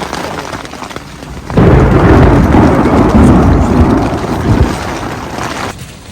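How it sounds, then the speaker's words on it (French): Thunderstorm on Mont Blanc: a heavy thunder rumble breaks in over a quieter background of rain, rolls loudly for several seconds, then fades back to the lighter wash. "évidemment on n'a pas échappé à l'orage"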